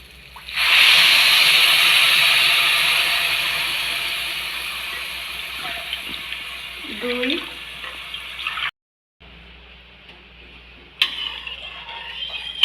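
Water gushes steadily into a cooking pot for lentil khichdi, a bright hissing pour that tapers off after several seconds, followed by faint kitchen clatter.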